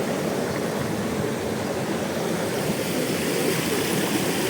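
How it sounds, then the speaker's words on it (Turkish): Steady broadband rush of a waterfall and its flowing stream, heard from the top of the falls at Cehennem waterfall, loud, continuous and even, with no voices. "Buradan akan su aşağıya gidiyor. Şelalelerin tepesine çıktık."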